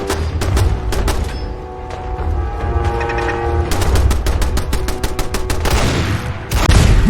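Rapid bursts of loud gunfire from Fallout 4, a Desert Eagle pistol fired against a turret, with sharp cracks repeating in quick volleys over a dense, rumbling battle din.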